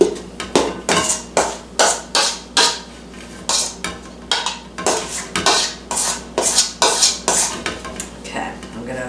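A spatula scrapes peanut butter cheesecake batter from the edges of a mixing bowl, producing a steady run of short, close scraping and knocking strokes about twice a second with no talking.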